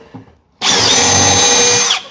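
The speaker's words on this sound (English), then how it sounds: "I'm gonna pre-drill this" Drill pre-drilling 3/4 plywood during a cabinet install: a single loud, steady whirring run of about a second and a half, starting abruptly and cutting off cleanly, with no talk over it.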